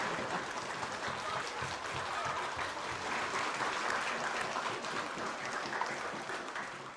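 An audience gives soft, distant, even applause for an orchestra after a rehearsed performance of the Yellow River under a veteran conductor. The clapping stays steady for about seven seconds with no clear talking.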